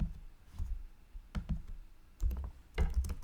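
Typing on a computer keyboard, with soft clicks in small clustered groups separated by short pauses, quiet and close with no talk.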